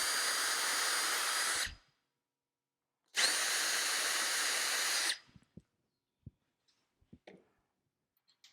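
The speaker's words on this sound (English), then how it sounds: "We will take our drill" Two long, steady bursts of a power drill boring into wood, followed by a few light knocks and clicks.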